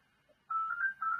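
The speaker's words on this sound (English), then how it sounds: "I'm just being disturbed by this telephone that somebody chose to dial, which is in my office here" A telephone rings in an office, a faint electronic ring tone that starts partway through and holds steady for under a second, with a brief break near the end and no talk.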